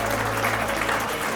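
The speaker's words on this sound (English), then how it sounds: "Big applause" Audience applause at a drift car event, a dense wash of clapping filling the space, steady and fairly loud, with a low hum running underneath.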